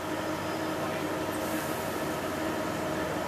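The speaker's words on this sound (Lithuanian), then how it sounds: "naujo tipo visuomeninio transporto priemonė, sakyčiau, kažkas tarpinio tarp troleibuso ir šiuolaikiško lengvojo tramvajaus." A new single-rail, rubber-tyred tram, a public transport vehicle between a trolleybus and a light tram, moving with a steady, loud rolling rumble and a faint high whine, continuous throughout.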